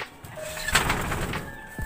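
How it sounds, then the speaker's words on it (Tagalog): Soft cooing of birds close by, a few low murmuring calls mixed with light rustling and background noise. "Ito naman yung mga ibon natin"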